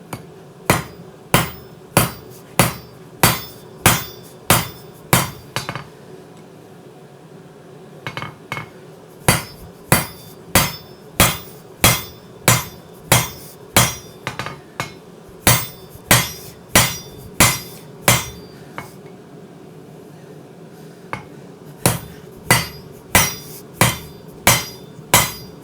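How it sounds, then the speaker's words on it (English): Heavy ringing blows from a large Bailey hammer striking hot steel during integral knife forging, landing in fast, even bursts of about eight to ten strikes, with short pauses between runs, loud and close. "let's give this guy a couple good thwacks with this big old Bailey hammer"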